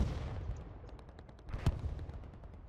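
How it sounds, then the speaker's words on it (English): A sniper in a church tower fires in a tactical shooter match, and sharp gunshots crack over a dense, rumbling battlefield din, with one louder close report standing out. "there's a dude in the church tower shooting at us"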